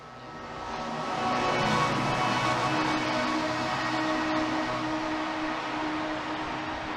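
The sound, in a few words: BART train ride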